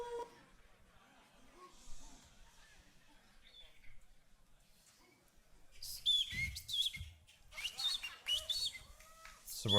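A beatboxer at a Grand Beatbox Battle imitates birds chirping with quick high whistled tweets and trills, quiet at first, then louder bursts mixed with breathy vocal effects near the end.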